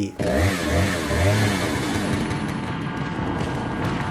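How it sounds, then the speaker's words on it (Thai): A chainsaw from the video game Resident Evil 4 revs with a rough, buzzing engine snarl, loud and continuous, rising at first and then settling into a steady grinding whine with no speech. "กลัวเสียงเลื่อยจาก Resident Evil 4"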